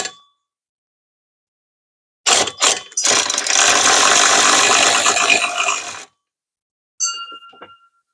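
Close ratchet with a mid-sized deep socket and wobble extension loosening a nut on a Mercedes, a burst of rapid clicking followed by a few seconds of continuous ratcheting, then a faint metallic tick, between quiet gaps.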